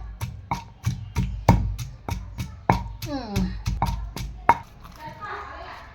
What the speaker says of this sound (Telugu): ఇదిగోండి అల్లం వెల్లుల్లి పచ్చిమిరపకాయ బాగా కుమ్మనండి